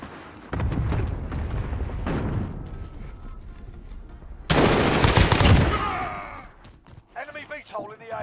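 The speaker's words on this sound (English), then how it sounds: "Enemy cluster strike incoming." Cluster strike explosions in Modern Warfare: a heavy, booming blast lands early and a second, louder, crackling barrage erupts midway, rumbling and fading before scattered lighter bursts near the end.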